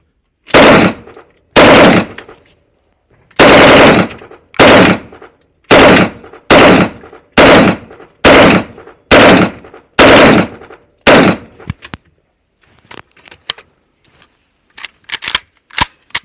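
A third-generation 2023 AK-12 rifle fires on automatic in about ten loud, close bursts at an even pace, followed by fainter scattered clicks and handling noises.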